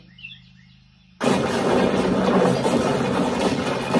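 A sudden loud car explosion bursts out of near-silence, followed by a sustained roaring, crackling rumble that fills the space; faint bird chirps are heard before it.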